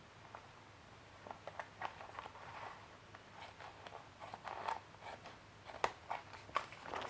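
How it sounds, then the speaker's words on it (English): Scissors cut along the top opening of a sealed paper pocket. Faint, close, irregular snips and crinkles come at an uneven pace over a quiet background. "cut along the top part here where the opening of the pocket is, and cut it as straight as you can"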